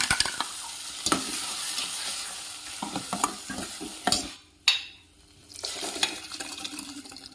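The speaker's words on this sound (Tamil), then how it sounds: "தேங்காய் மல்லி மிளகாத்தூள் எல்லாம் சேர்த்து போட்ட பேஸ்ட்டை போட்டுக்குவோம்" A coconut, coriander and chili paste sizzles and is stirred in a pan for a thick kulambu, with scraping strokes over steady frying noise that briefly drops away mid-clip before resuming.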